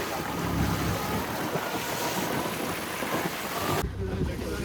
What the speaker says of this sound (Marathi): इथून आमची बोट परत फिरेल आता